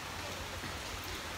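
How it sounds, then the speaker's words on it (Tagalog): Heavy rain falls in a stormy downpour with strong wind, a dense, steady wash of drops that stays constant and loud throughout the short stretch. "Pero ang lakas ng ulan, parang nagbabagyo na"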